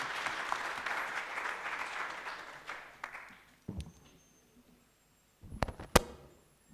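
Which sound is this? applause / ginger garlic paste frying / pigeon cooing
applause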